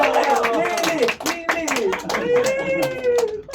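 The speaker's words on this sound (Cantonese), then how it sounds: "你哋嘅掌聲，你哋嘅歡呼聲係俾我們向前嘅動力。" A live crowd at a Cantonese stage show claps in quick, rhythmic bursts beneath a loud, close voice speaking over them.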